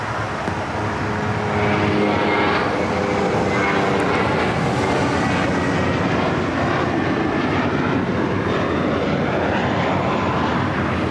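A SkyWest airliner takes off from runway 25 right at LAX, its jet engines building into a loud, sustained roar that dominates throughout, with no voices present.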